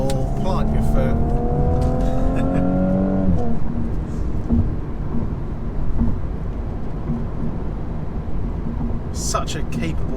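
A 2017 Audi S4 revs hard under full throttle, its rising engine note sweeping up before settling into a loud, steady roar with road and wind noise, a voice talking over parts of it.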